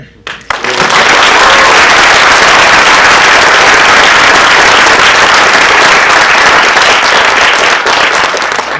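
Loud, sustained applause from a large audience, dense clapping that starts abruptly and holds steady throughout with no voices standing out.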